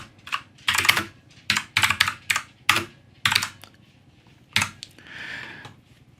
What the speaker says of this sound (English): just simply click in it, and you'll then be able to type out some